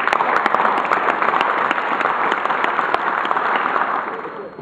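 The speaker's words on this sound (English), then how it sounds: "would you please join me in a round of applause?" An audience at a university ROTC commissioning ceremony gives a round of applause, with many hands clapping in a dense, crisp patter that holds steady and then tapers slightly toward the end.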